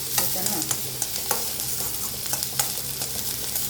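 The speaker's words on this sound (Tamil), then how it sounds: "பெரிய வெங்காயம் சேர்த்துட்டு நல்லா வதக்குங்க." Large onions sauté in a hot pan with a soft, steady sizzle. Quick stirring scrapes and light clinks of a spoon against the pan break through close by, and no one talks.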